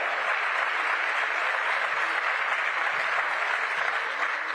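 Audience at an event gives sustained, steady applause, a dense wash of many hands clapping at even volume throughout.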